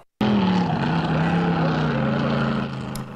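Jet boats at a drag race event on Lake Ming make a loud, close, continuous engine roar that starts abruptly and holds steady with a slightly falling pitch before easing off near the end.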